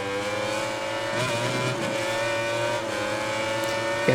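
Motorcycle engine in the MotoGP 2020 racing video game held at high revs with steady harmonic whine, throttle pinned through a lap, loud and continuous with slight pitch shifts and no talking.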